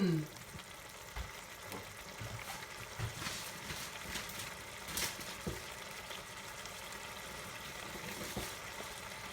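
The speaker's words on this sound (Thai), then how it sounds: "จากนั้นเดี๋ยวก็จะปล่อยเขาเดือดแป๊บหนึ่ง" A tuna sauce for spaghetti simmers in a pan, giving a quiet, steady bubbling sizzle with occasional soft clinks and knocks, faint and close throughout.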